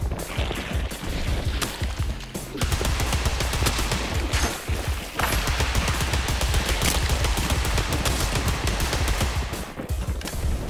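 Rapid shotgun blasts in a first-person video game, repeated booming shots coming in quick bursts with brief pauses between volleys, loud and close with no talk.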